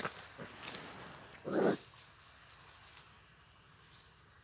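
A Hmong native dog, hunting in the wild, gives a short bark or yelp amid faint background noise, with a brief high squeak just before.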